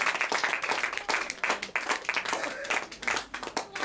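A church congregation applauds the Lord during a service, many hands clapping in a dense, fairly loud, rhythmic burst that carries on steadily throughout.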